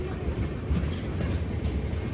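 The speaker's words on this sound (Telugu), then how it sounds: "ఆ ట్రైన్ మా ట్రైన్." Express train on the Pune–Kanyakumari route running on a parallel track, a steady loud rumble of wheels and coaches rolling past close by with a continuous rattling clatter.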